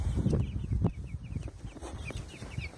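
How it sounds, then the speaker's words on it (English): Chickens in a farm chicken yard around a chicken house cluck and chatter, a busy, continuous flock sound with a few sharper calls standing out over steady outdoor background noise. "So here's our chickens over here."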